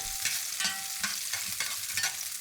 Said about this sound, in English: add in ginger, red chili pepper, and sizzle for half a minute.